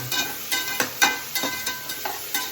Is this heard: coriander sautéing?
yes